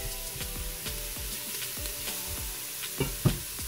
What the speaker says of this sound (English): now I'm going in with my chopped garlic